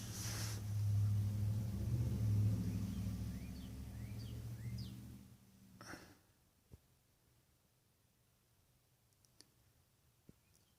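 A 1995 Lakewood box fan in need of oil winding down: a low steady motor hum and rumble that fades out over several seconds, followed by near silence with a few faint clicks as the blade stops.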